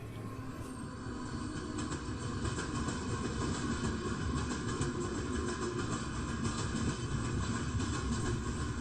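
A loaded model train on a layout rolls past over a track switch with a steady, continuous rumble and metallic rattling, loud and sustained with no voices.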